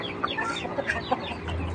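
Chickens on a fighting-cock farm clucking together in a busy, overlapping chorus, close and fairly loud against a steady low background hum.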